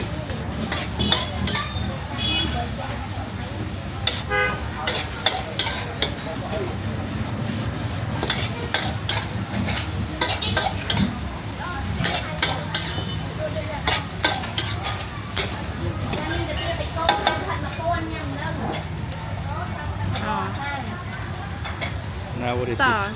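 Seafood fried rice with prawns being stir-fried at a cheap street stall in Battambang, Cambodia: continuous loud sizzling with repeated scraping and clanking of a utensil in the pan, with voices talking throughout.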